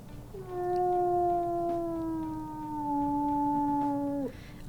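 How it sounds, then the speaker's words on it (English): A single long, steady wolf howl from a video game, clear and close, sliding slowly downward in pitch before breaking off abruptly, with no talk over it. "We'll listen to his howls."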